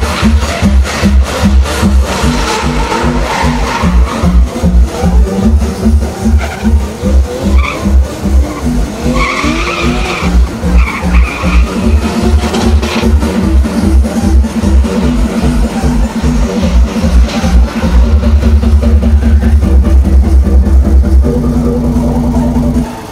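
A drift car's engine revs hard and continuously at close range, with rhythmic pulsing bursts of throttle, tire noise and a loud sustained roar building toward the end.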